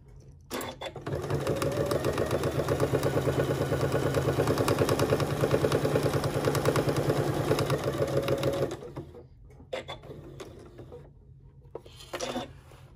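A sewing machine stitches fabric bunny ears in a steady, fast, close mechanical whir for about eight seconds, then stops, leaving a few brief handling clicks and rustles.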